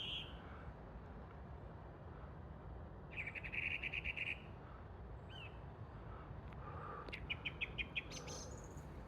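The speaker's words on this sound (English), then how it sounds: "Song thrush." A song thrush sings outdoors in bushy countryside, giving two bursts of rapid, repeated high phrases several seconds apart, moderately distant over a steady hiss of insects and ambient noise.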